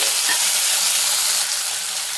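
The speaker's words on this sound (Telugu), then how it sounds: "ఈ అల్లం వెల్లుల్లి పేస్ట్ కూడా పచ్చివాసన పోయేదాకా బాగా వేయించుదామండి ఈ ఆయిల్లోనే" Steady sizzling of ginger-garlic paste frying in hot oil, a continuous bright hiss that eases slightly toward the end, with no voices.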